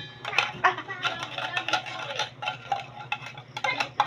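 A spoon clicks and scrapes rapidly in a bowl, stirring a condensed milk mixture with cream for a mango dessert. The stirring is close and continuous, under a soft murmuring voice.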